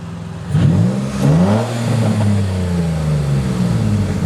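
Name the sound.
Nissan 350Z engine revving, possible exhaust leak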